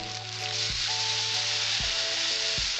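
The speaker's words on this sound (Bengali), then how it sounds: "2 কাপের মতো জল দিয়েছি।" Water poured into a pan of raw mango pieces fried until reddish sets off a loud, even sizzle that holds for the whole stretch, with no voices.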